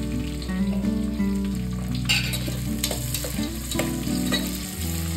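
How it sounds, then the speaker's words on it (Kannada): Thin onion slices frying in oil for restaurant-style mutton biryani, a soft crackling sizzle with a few stirring scrapes, largely under steady background music. "ಈರುಳ್ಳಿ ಕಲರ್ ಚೇಂಜ್ ಆಗೋ ತನಕ ರೋಸ್ಟ್ ಮಾಡ್ಕೋಬೇಕು."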